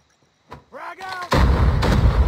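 A frag grenade in a first-person shooter game detonates with a loud, booming blast that follows a brief whoosh and whistling tones, the roar sustaining to the end.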